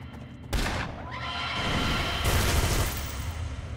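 Gunfire from an Arachnos Soldier in City of Villains: a dense, continuous barrage of game weapon fire and effects that starts abruptly and stays loud and steady throughout.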